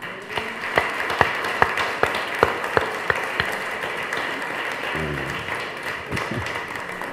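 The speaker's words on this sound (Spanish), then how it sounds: "vamos a aplaudir por el coro." Audience applause for a church choir: a steady wash of clapping from a crowd, with sharp individual claps standing out, and a brief low voiced sound near the end.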